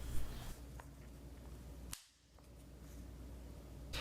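A Taran Tactical oversized safety on a Benelli shotgun is function checked, giving a few sharp metallic clicks, close and crisp, spaced apart against quiet background hiss, with no talk.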